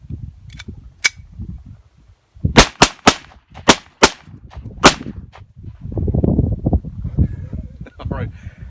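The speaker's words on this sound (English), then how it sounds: "Slow motion firing. It was jamming, but rapid fire seemed to be the ticket." A Bruni P4 9mm blank-firing replica of the Beretta P4 pistol cracks off a quick string of sharp, loud shots with a few isolated pops before it, followed by rustling and murmured talk.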